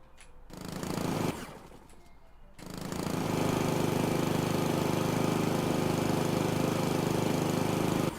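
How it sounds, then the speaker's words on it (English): A video-game lawnmower starts up and then runs continuously, a loud, steady mechanical engine drone with a buzzing rattle that fills the whole stretch after a brief sputtering start, with no talking over it. "the lawnmower might be really loud"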